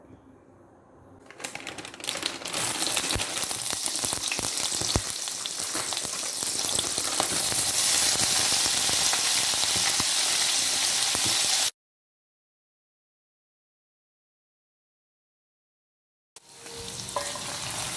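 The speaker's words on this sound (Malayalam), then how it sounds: "ഇനി ഓയിലൊഴിച്ച് പനീർ ഫ്രൈ ചെയ്തെടുക്കുക" Paneer fries in hot oil for a Kadai paneer dish, giving a loud, steady, crackling sizzle that runs continuously, cuts out to silence, then resumes.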